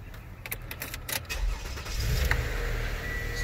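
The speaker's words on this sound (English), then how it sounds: "Let's go ahead and start her up." A 2015 Toyota Sienna minivan starting up after a front blower motor install, with a short cranking burst followed by the engine catching and settling into a steady idle, close by.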